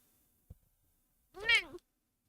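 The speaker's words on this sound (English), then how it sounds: "Oh, here she is. The cat's here." A cat gives a single clear, drawn-out meow close by after a faint knock, with quiet surroundings and no talk.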